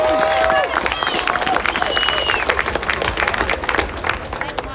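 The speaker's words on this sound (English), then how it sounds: "Let's give Grandmaster Jay another big round of applause" An outdoor crowd at a march and rally applauds Grandmaster Jay, the NFAC leader, with brisk uneven clapping, scattered cheers and whistles, and voices murmuring underneath.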